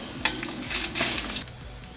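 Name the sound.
Kashmiri chilies and red chilies frying in pan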